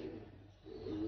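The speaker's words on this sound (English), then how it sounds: "Beautiful pigeon in the hand." A racing pigeon hen, a blue pied held in the hand, gives soft, low, faint cooing sounds, one murmur early and another swelling near the end, with quiet background around it.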